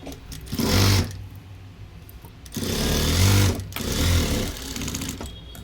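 A sewing machine stitches a size-40 four-tuck blouse in three close, whirring bursts of rapid needle chatter, with short pauses between runs.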